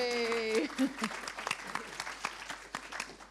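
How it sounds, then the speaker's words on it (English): An audience at a video advertising industry summit panel breaks into steady, dense clapping that follows a short cheer, filling the room for a few seconds. "And a big round of applause for Jen,"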